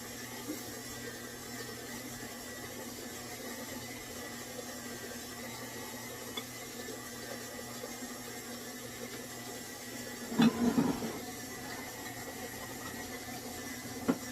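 An electric mixer beats sourdough peanut butter cookie dough with a steady, even whir. A short clatter breaks in near the end, and no one speaks.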